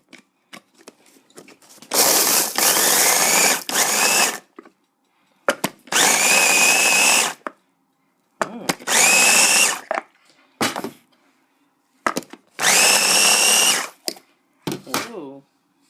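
An electric chopper whirs on and off through cooked garlic in four loud, sustained bursts and a short final pulse, each one cut off cleanly, with quiet gaps between them.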